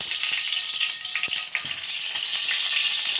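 Ghee, about three ladlefuls, sizzles and crackles steadily in a hot kadai, a dense, continuous frying hiss with small pops, close and alone with no talk.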